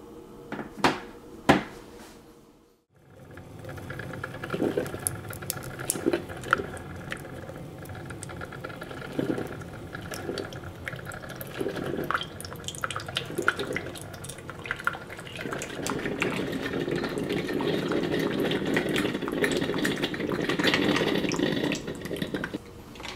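Mr. Coffee iced coffeemaker brewing, starting with a couple of sharp clicks, then quiet gurgles and drips that build into a steady hissing, bubbling flow near the machine.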